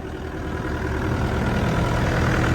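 The diesel engine of a Yanmar ViO80 excavator rumbles at a steady, low idle, continuous and fairly close, with no voices over it.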